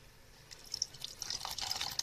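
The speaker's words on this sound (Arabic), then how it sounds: "ومحتاجة شوية مية كمان اضيف لها" A small amount of water trickling and dripping into paper pulp in a blender, a faint, close pour that grows slightly busier toward the end.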